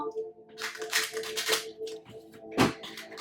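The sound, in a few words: shuffling a deck of cards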